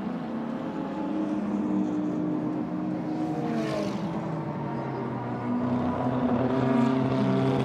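Maserati and Ferrari race cars battling at the Hungaroring, their engines a steady, layered roar with shifting tones that swell briefly as the cars pass, continuous throughout with no talk.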